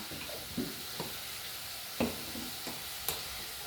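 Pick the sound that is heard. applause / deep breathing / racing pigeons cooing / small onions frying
small onions frying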